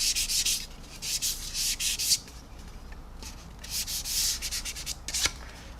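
Fine sandpaper rubbing over painted plastic on a 1/144 Zvezda Boeing 737-800 model kit, in quick close back-and-forth strokes grouped in short bursts with brief pauses, crisp and steady.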